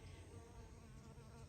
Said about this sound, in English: they're honeybees right now, munching on the penstemons.